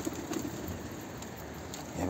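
Soft, low cooing from a young bird being fed repeats a few times close by, with faint rustling and background noise.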